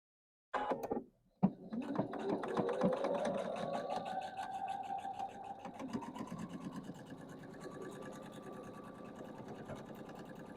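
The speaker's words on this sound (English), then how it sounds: "Now I'm going to sew my bottom row." A sewing machine stitches the bottom row of a quilt block, a steady mechanical whirring hum running close and continuous after a couple of brief starts, with no voices.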